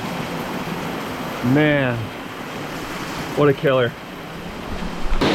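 Very heavy tropical rain pours down in Panama, a dense continuous roar of broadband noise, with a voice speaking briefly over it twice.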